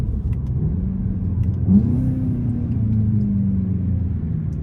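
Interior cabin sound of a Volkswagen Jetta GLI being driven, a steady low engine rumble with the pitch rising and settling as gears are shifted, loud and close with no talk.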